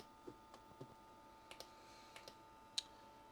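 An Amiga 2000 with a 68040 accelerator and RTG card makes faint, sparse mechanical clicks and ticks over a quiet electronic hum, with no talking.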